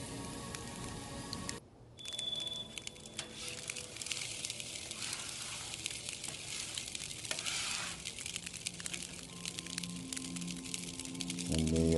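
Shrimp sizzle on a hot Blackstone griddle, a dense continuous crackling hiss that surges after a brief quiet gap and keeps popping and spitting steadily up close.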